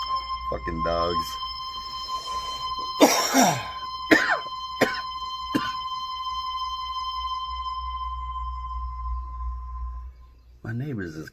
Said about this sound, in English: My neighbors is coughing.